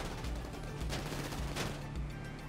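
Gunfire in GTA V Online, rapid repeated shots in quick bursts, fairly faint under dense game noise, with no talking.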